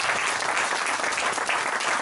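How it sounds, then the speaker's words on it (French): A church congregation at a pastor's sermon bursts into loud, sustained applause, a thick steady patter of many hands clapping together with no pause. "Donnons une acclamation au Seigneur."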